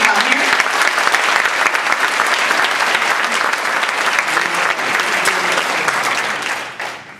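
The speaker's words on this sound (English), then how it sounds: "Let's give a huge round of applause to all of you that got up this morning." Sustained, dense applause from a conference audience at a Toastmasters district event fills the room loudly and evenly for several seconds, then tapers off quickly at the end.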